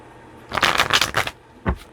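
Tarot cards riffle and slap together in a quick shuffle, close and crisp, followed by a short tap as the deck settles.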